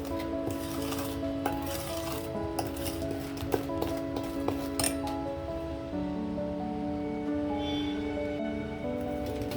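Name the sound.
mixing cake batter with a spoon in a bowl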